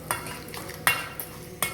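A spoon stirs and mixes ingredients in a cooking pot, giving soft scraping with a few sharp metallic clinks against the pot at irregular intervals, close and fairly quiet, with no talking.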